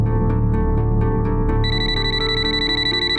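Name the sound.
phone ringing in a TV crime drama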